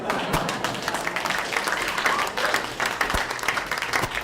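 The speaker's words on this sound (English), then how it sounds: "One more round of applause for all of our amazing teams today." Audience applause for competition teams at an afternoon round of a contest, a steady wash of clapping with a few sharper hand claps standing out, close and fairly loud, with a faint voice partly audible underneath.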